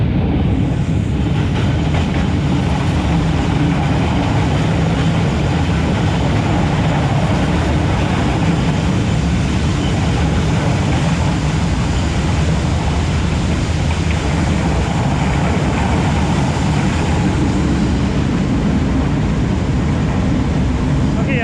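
A train rolls through Vietnam toward the Chinese border with a steady low rumble and rushing noise, heard from inside, loud and continuous, with small rattles and shifts in tone but no distinct voices.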